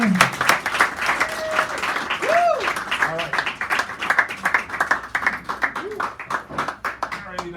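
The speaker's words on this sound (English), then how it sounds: "get the applause going" A small café audience at a San Francisco poetry reading breaks into close, lively applause that thins into scattered claps, while people talk over it throughout.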